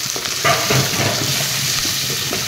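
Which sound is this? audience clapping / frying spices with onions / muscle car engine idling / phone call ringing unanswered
frying spices with onions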